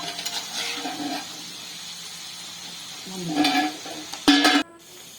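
Murali dough pieces deep-fry in hot oil with a steady sizzle, broken by a few louder bursts of bubbling and clinking stirring as more pieces go into the pan.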